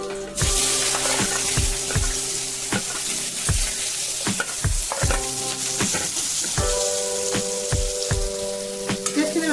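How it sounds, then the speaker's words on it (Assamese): Sliced onions and bay leaves sizzling in hot oil in a pan, a steady close fry broken by regular scraping stirs of a spatula every second or so. "পিঁয়াজখিনি ৰঙচুৱা কৰালৈকে মই ফ্ৰাই কৰি ল'ম"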